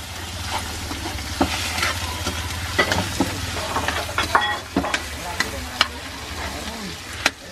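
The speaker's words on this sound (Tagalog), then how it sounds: "ginisa na po ni Auntie yung bituka" Auntie sautés fish intestines in a pan, a steady close sizzle and fry with frequent scraping and stirring clicks of a utensil against the pan.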